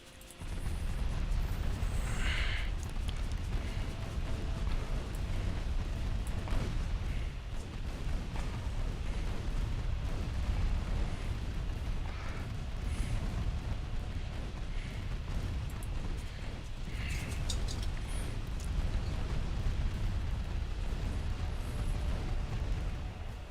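Naval artillery from the warship battle game Ultimate Admiral Dreadnoughts, as a steady, loud low rumble of heavy gunfire. Booming shots roll on and blend together for the full stretch, with no talking.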